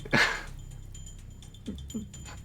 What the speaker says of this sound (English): He was stood in front of you, snarling and barking at you.